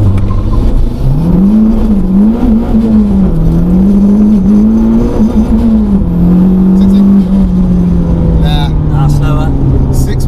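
A turbocharged Renault Clio 172 Cup, about 311 bhp and 980 kg, accelerating hard on a timed run on low boost: loud, steady engine drone rising and holding pitch, with a voice speaking over it.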